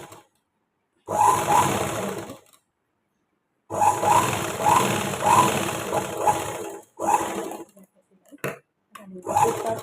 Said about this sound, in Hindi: ऐसे रखते हुए इसको हम थोड़ा सा नीचे की साइड इसको भी छोड़ते हुए अब इस पर हम सिलाई लगाते जाएंगे।